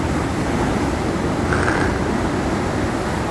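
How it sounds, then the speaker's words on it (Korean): Sea waves breaking on the East Sea coast at Mukho, Korea, heard as a steady, loud wash of surf and wind noise with no clear individual crashes, without any voices. "파도가 부서지고 있습니다."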